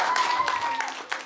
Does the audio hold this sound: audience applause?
yes